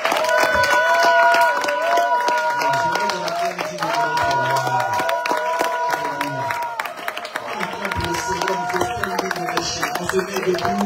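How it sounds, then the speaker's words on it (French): A church congregation claps and cheers in acclamation of God, a loud, sustained wash of rhythmic applause and shouts over sung music that carries through the whole stretch. "Acclamons le Seigneur. Si tu peux bien acclamer Dieu."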